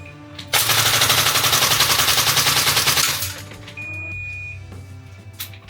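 A Tokyo Marui Type 89 gas blowback airsoft rifle fires a loud, rapid full-auto burst of about two and a half seconds, then clatters mechanically, with a thin whine lingering afterward.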